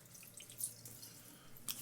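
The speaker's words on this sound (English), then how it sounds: "Then I rinse that off with cold water." Cold tap water splashes faintly as a face is rinsed after shaving, with a couple of brief, slightly louder splashes over a quiet trickle.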